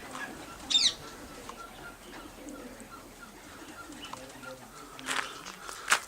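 Racing pigeons in a one-loft race loft in Perth, Tasmania, give soft cooing with a few brief higher calls and flutters, rising in short bursts near the start and end over a low, steady background.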